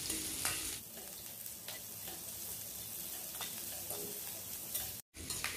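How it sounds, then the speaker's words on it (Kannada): Onions fry in oil for a North Karnataka onion churumuri, giving a steady, fairly quiet sizzle with occasional crackles and soft stirring sounds, broken by a brief dropout near the end. "ಈ ಉಳ್ಳಾಗಡ್ಡಿ ನೀವು ಇದ್ರಾಗ ಚಂದಂಗೆ ಎಣ್ಣೆಯಾಗ ಫ್ರೈ ಮಾಡಿದಂಗ ಅವೆಲ್ಲ ಬಿಡಿ ಬಿಡಿಯಾಗಿ ಆಗ್ತಾವು"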